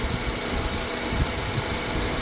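A car engine with i-VTEC idles steadily with a low, continuous rumble and no voices, holding an even level throughout.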